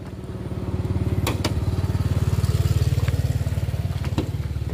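A 2013 Toyota Avanza G manual MPV's engine idles smoothly with a steady, rapid, low thrumming pulse heard up close, with a few faint clicks and taps over it.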